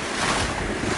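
Choppy ocean swell in the Indian Ocean with a strong current, a steady loud rush of waves and wind noise filling the whole stretch with no break.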